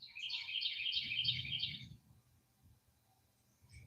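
Birds in a backyard at dawn chirp in a bright, fluttering burst for about two seconds, then fall nearly quiet, with a faint low hum underneath and one more short call at the end.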